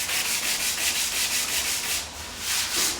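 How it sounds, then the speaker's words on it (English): Wet-sanding automotive paint by hand makes a steady, close rasping rub in quick back-and-forth strokes. "I'm going to sand this with my hand"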